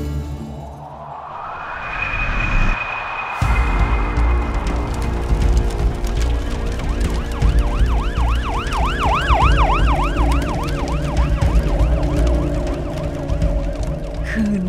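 Wailing fire engine and ambulance sirens rise and fall continuously over traffic rumble, loud and close, with one siren's sweeping warble dominating the middle stretch.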